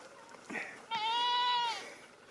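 A goat bleats once in a long, wavering call, close and loud, after a brief lower sound at the start.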